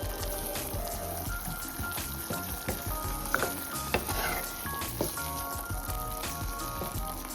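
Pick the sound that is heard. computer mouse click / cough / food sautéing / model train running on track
food sautéing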